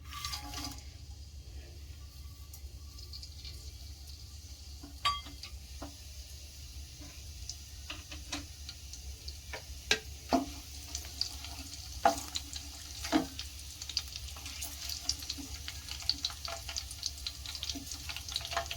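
Whole garam masala spices (cumin, cinnamon, cloves, dried chillies, bay leaf and star anise) dropped into hot oil in a pan for matar paneer, giving a steady low sizzle and frying crackle with scattered sharp pops and clicks, close and without talk.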